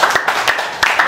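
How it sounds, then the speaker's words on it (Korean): An audience at a lecture claps together in a brief burst of dense, close applause with rapid overlapping hand claps. "우리 다 같이 어르신들 건강하십시오. 우리 후진들 잘 키워주십시오. 하는 박수를 드리겠습니다."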